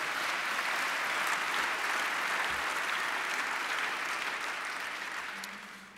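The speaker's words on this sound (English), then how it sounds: "Let's give David a round of applause for his leadership." Audience applauding for an incoming chair at a City of Sacramento event with Mayor Kevin Johnson, a steady, dense round of clapping that holds evenly, then begins to thin and fade toward the end.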